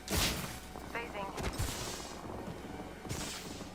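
Gunfire in the tactical shooter Valorant, several sharp bursts with a closer crack near the middle, set against steady game ambience and mixed with a player's chatter.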